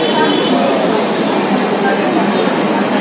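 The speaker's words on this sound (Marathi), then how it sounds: "आपली ट्रेन म्हणजेच महालक्ष्मी एक्सप्रेस आलेली आहे ठाण्याच्या प्लॅटफॉर्म नंबर 7 वरती" The Mahalaxmi Express, hauled by a WCAM2 electric locomotive with new LHB coaches, rolls into platform 7 at Thane station as a loud, steady rumble and hiss of wheels and cars, with voices mixed into the noise.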